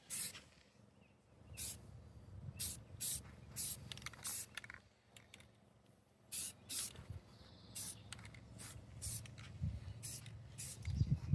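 Spray paint hissing onto the frame of a 1983 Honda Shadow bobber in repeated short bursts, close and fairly quiet, with brief pauses between passes and low background rumble.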